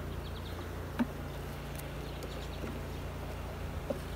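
Honey bees swarm around an open, busy hive full of brood and filling honey supers, a steady low buzz hanging close throughout with a couple of faint knocks.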